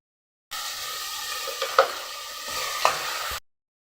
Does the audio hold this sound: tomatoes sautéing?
yes